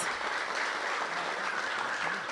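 Brief, steady applause from an audience at a mayoral announcement event, a dense wash of clapping heard from a distance at moderate volume.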